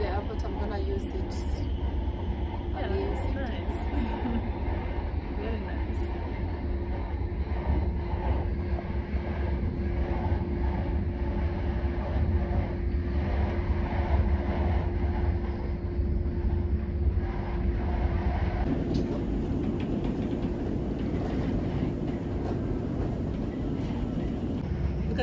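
Inside the Gautrain electric train running in Johannesburg, a constant loud rolling rumble and hum with a steady tone, the sound shifting slightly partway through, with occasional speech over it.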